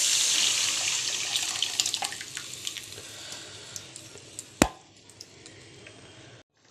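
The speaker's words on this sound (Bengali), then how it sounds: "এবার আমি ডালটা ঢেলে দেবো।" Mung dal poured into a pot of fried hilsa fish heads, a steady hissing, sizzling rush that gradually fades, with a sharp clink partway through.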